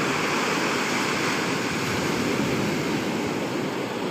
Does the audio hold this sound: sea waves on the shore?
yes